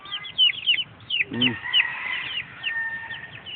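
A chicken at a backyard coop clucks in short bursts, mixed with higher chirps from other birds, close and moderately loud against a quiet outdoor background.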